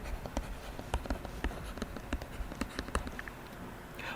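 Marker or chalk writing on a board in a physics classroom, a series of sharp taps and short scratchy strokes in an uneven rhythm, close and fairly quiet, with no talking.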